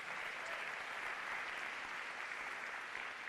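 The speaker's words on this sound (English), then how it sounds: "you can clap for that" Audience applause at a town hall event, a steady dense wash of clapping from a crowd that holds at an even level throughout, with no voices over it.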